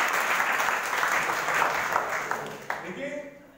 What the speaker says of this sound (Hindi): ताली बजाओ उसके लिए